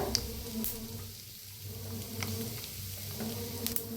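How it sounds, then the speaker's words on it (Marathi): Mustard seeds, cumin and a pinch of asafoetida sizzle in hot oil, a continuous frying hiss broken by sharp crackling pops scattered across the moment, fairly close and unaccompanied by speech. "आता तेल चांगलं गरम झालेलं आहे त्याच्यात टाकूया एक चमचा मोहरी एक चमचा जिरं थोडंसं हिंग"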